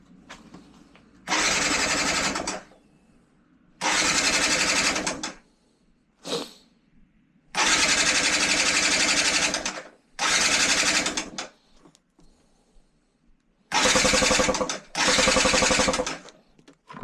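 Yamaha TDR 125 two-stroke motorcycle engine repeatedly cranked and briefly catching, giving several loud, rasping bursts of a few seconds each separated by pauses, with faint talk in the background between attempts.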